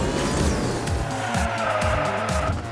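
Racing engine drone with tire squeal and skidding in the Hot Wheels Unleashed 2 video game during a motorcycle race, a steady loud stream of game audio with no talking.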